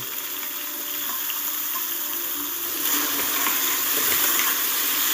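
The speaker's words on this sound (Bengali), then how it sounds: "বেগুনগুলোকে ভালো করে নেড়ে চেড়ে নিচ্ছি" Eggplant fries in mustard oil in a kadai while being stirred, a steady close sizzle that grows louder and denser midway, with soft scraping movements mixed in.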